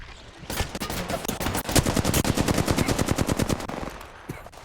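Automatic gunfire in the video game Apex Legends rattles as a loud, sustained burst of rapid shots at a fast, even rhythm, fading into a few sparse sounds at the end.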